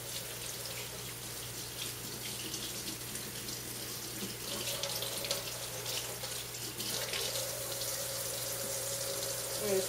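Tap water streams into a sink as a makeup brush is rinsed of baby shampoo, a continuous close rush of water that shifts slightly in tone as the brush moves under the flow.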